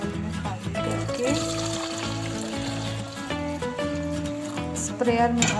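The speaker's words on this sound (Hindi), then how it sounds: "छानने के बाद इस बॉटल में खाली करके" Strained, foamy garlic-peel water is poured into a bottle, giving a steady trickling gurgle that runs almost throughout, with music playing underneath.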